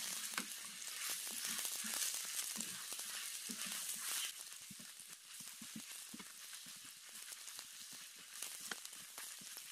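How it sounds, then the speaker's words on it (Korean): Fish cakes stir-frying in a hot pan until golden, a steady broadband sizzle with frequent small clicks and scrapes of stirring throughout, close and continuous with no talk. "노랗게 볶아줍니다"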